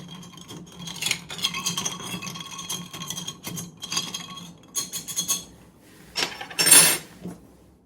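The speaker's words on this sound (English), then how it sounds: "Let's give everything a stir." A pineapple chicha cocktail is stirred, giving light, irregular clinks and rubbing of a spoon against glass, with a brief louder rattle near the end and no talking.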